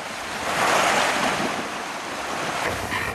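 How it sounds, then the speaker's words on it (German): Ocean water washing over a coastline, a continuous broad roar of surf and wind swelling and easing, loud and steady with no voices. "schwappt Wasser über ihre Küsten, wie bei einer überlaufenden Badewanne"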